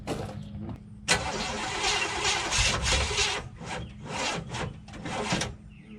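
A 1958 Chevy Biscayne engine, neglected for years, cranks and catches about a second in, then runs loud and close with an uneven, surging idle for several seconds.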